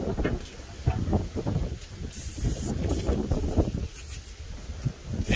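Bursts of spray hiss close by as a truck's in-frame toolbox frame is cleaned, several pulses starting and stopping with short gaps and clatter between them.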